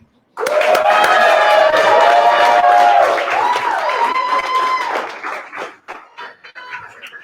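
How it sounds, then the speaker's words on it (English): Storytelling fundraiser crowd at the Mercury Cafe bursting into loud applause and cheering, whoops and shouts over steady clapping that thins out and fades toward the end. "give a huge, huge round of applause for the reason we are all here tonight"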